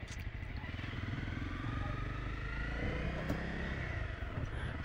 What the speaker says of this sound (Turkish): Şimdi görüyorsunuz yavaş yavaş motosikletimle ilerliyorum.